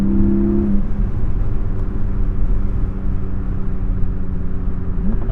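A 2021 Porsche 718 Spyder with PDK gearbox driven through canyon roads, its engine giving a steady, loud droning rumble with road noise and a short tonal whine at the start.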